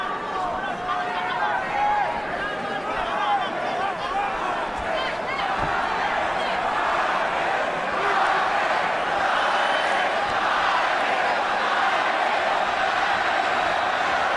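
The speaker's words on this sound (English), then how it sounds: "Judging by the chants, the crowd's about 50-50." Boxing crowd at the Pacquiao vs Marquez third fight, Mexican and Filipino fans chanting in a dense, steady roar that fills the arena without letup.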